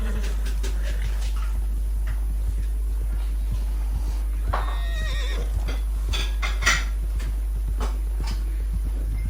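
A horse in Red Dead Redemption 2 gives a neigh midway through, over a steady low game background hum with soft shuffling and hoof sounds.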